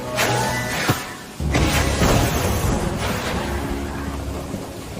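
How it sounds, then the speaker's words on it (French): Cartoon thunderstorm with steady rain hissing throughout, broken by a sharp crack and a deep rolling thunder boom near the start, no voices present. "Dommage qu'on ne puisse rien faire contre cette pluie."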